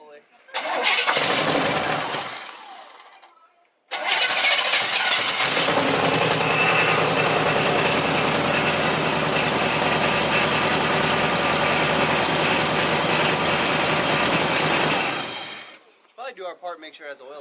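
An old Chevy Squarebody truck, left abandoned in a storage unit for years, cranks briefly on starting fluid, pauses, then catches and runs roughly for about ten seconds before cutting out, close and loud.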